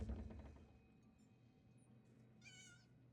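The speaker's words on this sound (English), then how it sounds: "There's a cat." A cat in The Elder Scrolls Online gives a short, high meow near the end, faint over quiet ambient game background after a brief low thump at the start.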